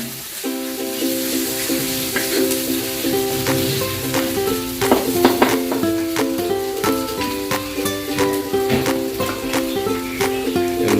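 Ginger frying in a pan for dinailan, a steady close sizzle with occasional pops and spatters, a faint tonal hum running underneath throughout.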